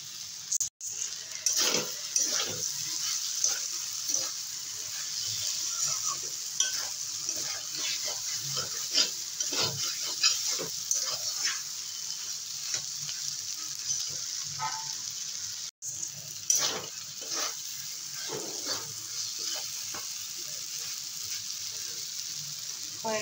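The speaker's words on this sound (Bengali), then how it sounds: "এবারে যেটুকু রস আছে নেড়ে চেড়ে শুকিয়ে নেব।" Kochur loti (taro stolons) and shrimp being stirred and dried in a pan, with a steady soft sizzle broken by frequent scraping and clinking of a spatula, close and continuous with no talk.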